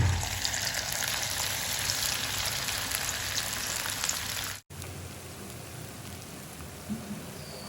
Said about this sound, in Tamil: இப்போ இதே மாதிரி பாக்கி எல்லாத்தையும் ஃப்ரை பண்ணி எடுத்துக்கலாங்க